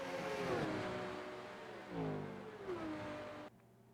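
Race cars on the Daytona oval in the RENNSPORT racing game, engines whining and shifting pitch as they accelerate and pass, a fairly faint continuous roar that cuts off abruptly near the end.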